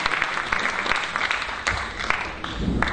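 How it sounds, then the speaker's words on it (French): Sustained applause from a crowd at a conference, steady clapping filling the room throughout with a few louder bursts, no talking. "On va applaudir"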